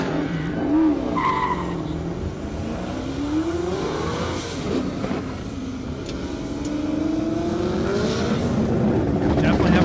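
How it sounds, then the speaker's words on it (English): A 1969 Camaro race car on an airstrip at a half-mile speed event, its engine revving and wavering as the tires lose traction and scrub in and out, heard from a distance in a steady outdoor roar. "Definitely having traction-related issues."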